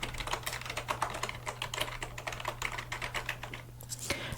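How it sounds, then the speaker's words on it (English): Rapid typing on a computer keyboard, close and crisp, with a steady stream of key clicks over a faint low hum. "typing it away."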